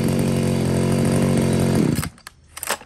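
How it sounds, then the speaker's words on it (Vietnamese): A 38cc mid-range chainsaw engine runs loud and steady, then cuts off abruptly, leaving a few faint rattles and a brief bump after it stops. "một con máy cưa nòng 38 ly chuyên khai thác tầm trung các bác nhá"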